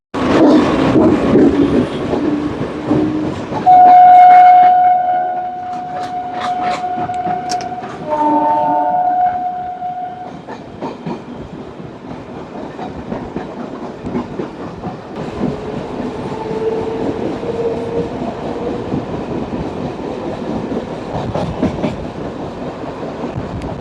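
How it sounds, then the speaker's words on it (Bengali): A passenger train pulling away from Ranaghat station on the Gede line, with loud continuous rumble and rail clatter, a long horn blast early on and rhythmic wheel noise as it gathers speed. "ট্রেন তার নির্দিষ্ট সময় ছেড়ে দিয়েছে রানাঘাট স্টেশন থেকে"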